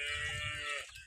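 A single drawn-out moo from a cow nearby on a farm, sustained for about a second before trailing off, with low rumbling background noise.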